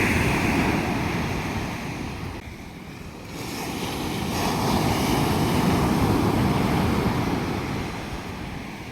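Sea waves roll onto a clean beach in a continuous, fairly loud surf roar that dips briefly and swells again, with wind buffeting the microphone.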